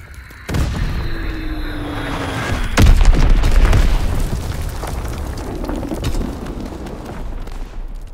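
An enemy bomb explodes in the World War II shooter Call of Duty WW2 with a sharp blast, followed by a second heavy boom and a long rumbling decay beneath battlefield noise.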